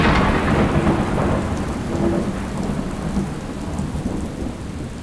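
Heavy rain pours steadily through a thunderstorm, with deep rolls of thunder rumbling under the dense hiss of drops striking surfaces.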